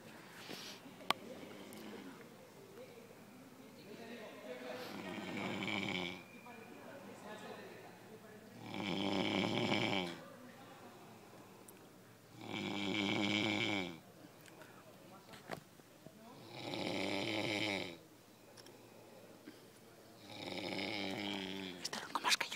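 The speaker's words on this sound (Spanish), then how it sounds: "Están aquí roncando a saco." Several people asleep at the San Fermín festival in 2012 snore in a slow, regular rhythm, each long rasping snore rising and fading with quiet breathing between, fairly close and soft.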